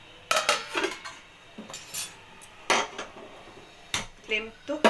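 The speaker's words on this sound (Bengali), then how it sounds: "এবার আমি এটা ঢাকা দিয়ে দিচ্ছি।" Metal clanks and knocks as a lid is set onto a cooking pot while fish curry cooks, several sharp separate impacts with short rattles, close in a quiet kitchen.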